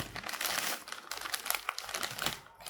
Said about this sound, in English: We tear down this sticker.